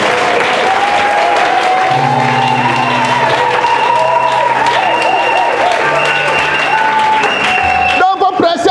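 A church congregation applauds and cheers during a sermon, a dense, steady wash of clapping and crowd noise lasting throughout, with a voice speaking over it and sustained tones beneath.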